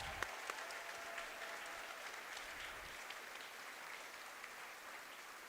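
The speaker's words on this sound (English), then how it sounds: "round of applause to them." At the opening ceremony of the USA Jigsaw Nationals, an audience gives sustained applause, a steady, moderately loud wash of clapping with a few sharper claps near the start.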